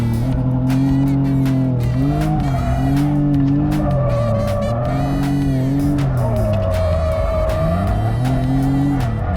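A car drifting, heard from inside beside the driver: loud, sustained tire squeal wavering up and down over a continuous engine roar, filling the whole stretch with no pause.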